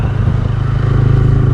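A motorcycle engine drones steadily and loudly during a ride on a mountain road near Skardu, with wind buffeting and a constant low rumble throughout and no talk.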